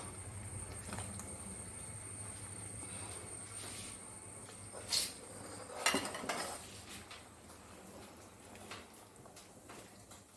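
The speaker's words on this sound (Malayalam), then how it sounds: "നമ്മൾ വറുത്ത് വെച്ചിരിക്കുന്ന അണ്ടിപ്പരിപ്പും മത്തങ്ങയും ഇട്ട് കൊടുക്കാം" Fried cashews and pumpkin tipped into a simmering pot of Kerala-style chicken-less pumpkin curry, giving a few close clinks and clatters of utensils against the pot over a steady low kitchen hum.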